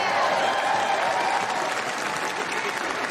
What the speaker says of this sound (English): I mean, that's a lot of applause